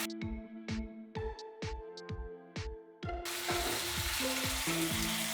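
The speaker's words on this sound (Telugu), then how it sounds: "మీడియం ఫ్లేమ్లో పెట్టుకొని ఫ్రై చేసుకుందాము." Mutton frying for a roast in a pan on a medium flame: a continuous hissing sizzle begins partway through, joining a run of plucked, bell-like musical notes that plays throughout.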